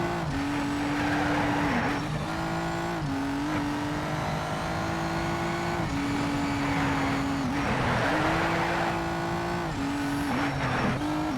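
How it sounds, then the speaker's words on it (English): A race car engine in the Need for Speed: Shift video game roars loud and sustained through a tunnel, its droning pitch dipping and rising with gear changes over a steady hiss of road noise. "this car sounds amazing in the tunnel"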